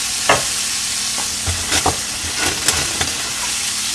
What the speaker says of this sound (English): We're going to move our pork around a little bit.